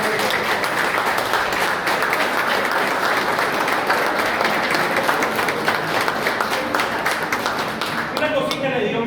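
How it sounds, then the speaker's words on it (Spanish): Loud, sustained applause from a political rally audience honouring teachers standing up, dense rhythmic clapping close by that carries on evenly before a voice begins speaking near the end. "A ustedes, de nuevo, Patricia y yo, un aplauso."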